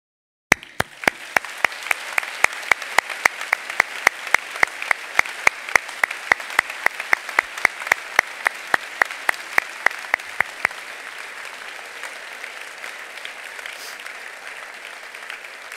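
Applause at a high school STEM academy commencement: sharp, evenly spaced claps ring out close and prominent over a softer audience bed, stopping abruptly partway through while a fainter crowd murmur lingers.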